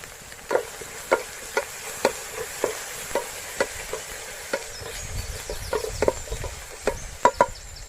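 Garlic and ginger paste being mixed in a pot, a series of distinct scraping and knocking strokes of a spoon at a fairly steady rhythm over a soft background sizzle.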